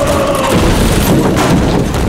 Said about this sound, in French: Mais Léon, ça va pas de balancer des grenades comme ça sur le wagon